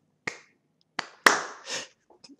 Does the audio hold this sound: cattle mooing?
no